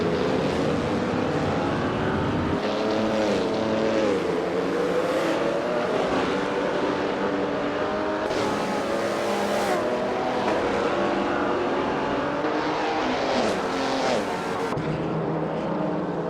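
Racing cars in an AI racing simulation, among them an Auto Union Type D, roar without pause as a dense, steady engine drone, with revs rising and falling and overlapping passes, loud and close throughout.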